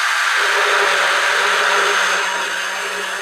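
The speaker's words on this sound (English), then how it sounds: "I'm just using my drill because it's a lot more maneuverable." An electric drill fitted with an aluminum-cutting die grinding bit whines steadily as it removes metal from cast metal being prepared for brazing, a close, continuous high-pitched grinding that eases slightly toward the end.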